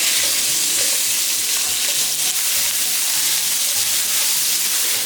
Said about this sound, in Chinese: 把五花肉爆至油来